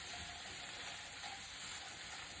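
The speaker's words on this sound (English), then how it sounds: "You hear the sizzle? And we're going to roast these chickpeas" Steady hissing sizzle of chickpeas roasting in a hot pan, constant and close, with no voices.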